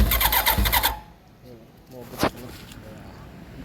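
A Kawasaki ZXR750 motorcycle under repair, with its ignition wired straight through a bypass, fires up on a first test run: it roars loudly for about a second, then cuts out, followed by quiet and a single sharp click.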